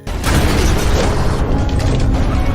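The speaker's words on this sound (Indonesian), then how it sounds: "Hingga kemudian sebuah ledakan membuat seluruh orang panik." A loud, sustained explosion aboard an airplane in a film, set off when an oxygen tank is burned, with a sharp onset followed by a dense roaring rumble that fills the whole passage.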